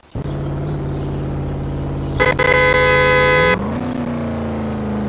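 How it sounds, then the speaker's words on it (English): A car horn sounds in a single sustained honk of about a second, loud and close, over the steady hum of an idling car engine at a red light on a hill. "Give a couple honks."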